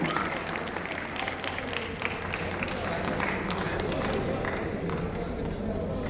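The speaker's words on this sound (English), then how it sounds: "Give him a big round of applause." An audience at a Kaun Banega Crorepati style club event applauds a contestant with sustained, dense clapping for several seconds over a low steady hum, and some voices come through under the applause.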